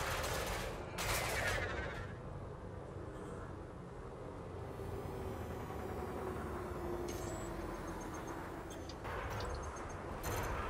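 Machine gun fire in Elite Dangerous, a steady rattling stream of rapid shots under a constant engine-like rumble, with a few louder bursts near the start and end and someone talking briefly.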